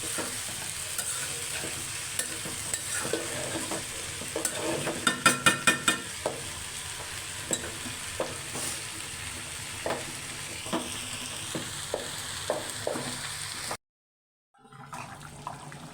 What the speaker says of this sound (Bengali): ভাজিটা হয়ে গেছে শেষ পর্যায়ে নাড়াচাড়া দিয়ে দিই